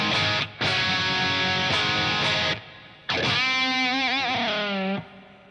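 Distorted electric guitar played through Bias FX amp modeling with a long plate reverb, loud chords and riffs with short breaks, then a sustained note with heavy vibrato and bends ringing out.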